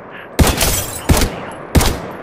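Three heavy gun bursts in the Apex Legends Mobile video game, each a loud, sharp blast with a ringing tail, spaced about two-thirds of a second apart.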